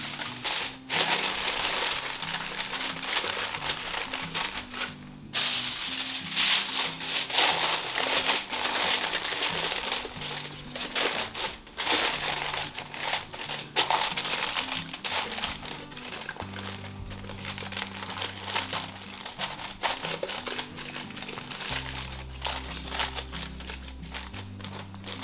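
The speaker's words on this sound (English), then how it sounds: "Cover it with some foil wrap." Foil wrap crumpled and pressed over a dish of Texas scalloped potatoes, a loud, continuous close crinkling and crackling that runs on for a long stretch with no voices.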